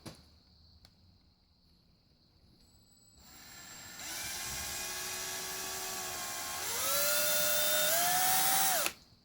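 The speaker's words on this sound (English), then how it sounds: "drill two more pilot holes in the end here for us" A power drill whirs up and runs steadily while drilling pilot holes in wood for a shadowbox, its whine rising in pitch as it speeds up, then stops abruptly; close and loud, no talking.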